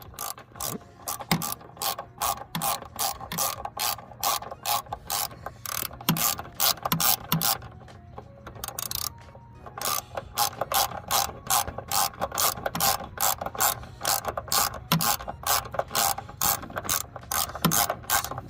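A ratchet tightens a Powerflex upper mount insert on a Hyundai Elantra, rapid close clicking in steady runs of strokes, with a short pause midway before the clicking resumes.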